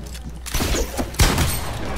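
Shotgun blast in a first-person shooter game, a sharp booming shot about a second in, set among other fainter gunfire and clatter.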